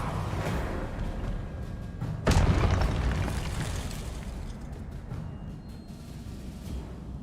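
A spell impact from the video game Hogwarts Legacy lands as a sudden loud burst about two seconds in, then fades into a rumbling game soundscape with background music.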